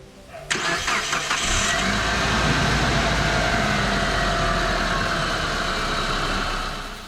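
A car engine cranks briefly, catches and starts during a battery tester cranking test, then settles into a steady, close idle that continues to the end.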